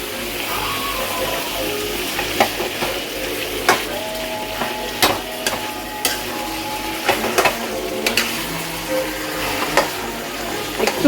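Raw onions and potatoes frying in a pan, a steady close sizzle with frequent stirring clicks and scrapes of a utensil against the metal, no voices.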